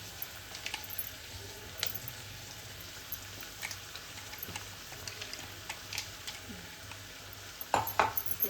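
Chili and coconut roast in a pan with chicken, with a steady low background hiss and scattered metallic clinks and scrapes as a utensil works the pan.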